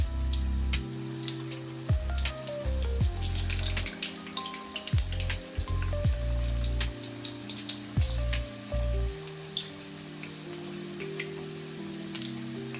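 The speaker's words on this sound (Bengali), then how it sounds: "অল্প অল্প করে দিয়েই ভাজতে হবে।" Moong dal kulli pitha deep frying in oil, a steady soft bubbling and sizzling with scattered pops, close and fairly quiet, under a low background hum.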